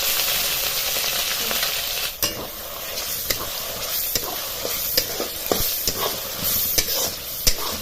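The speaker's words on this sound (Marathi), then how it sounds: "हे वाटण सारखं हलवीत राहायचं" Ground spice paste fries in oil with mustard seeds and cumin while a spoon keeps stirring it, a continuous loud sizzle with irregular scraping clicks and taps against the pan, close up and without talking.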